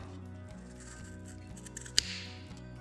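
A single crisp snip as the excess strap on Tusk Excursion motorcycle luggage bags is cut off, sharp and close over a steady low background hum.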